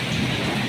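Heavy rain falling during a storm in Jeddah, a dense steady hiss of downpour close by, loud and unbroken, with no voices.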